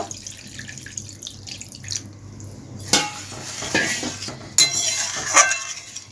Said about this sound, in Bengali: এবার আমি একটু জলকে কুসুম কুসুম ফুটিয়ে রেখে দিয়েছিলাম সেই জলটা দিয়ে দেব